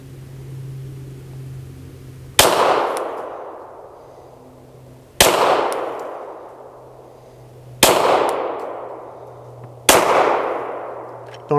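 Five sharp pistol shots ring out on steel targets in a slow, evenly spaced trigger-finger drill, each a loud close crack with a bright metallic clang that rings and fades before the next shot.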